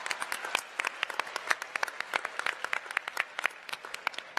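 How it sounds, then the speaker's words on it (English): School audience at Lake Braddock Secondary School clapping at a Mars rover name reveal, a continuous round of many hands with sharp individual claps standing out, moderately distant and steady. "Give all of yourselves a round of applause."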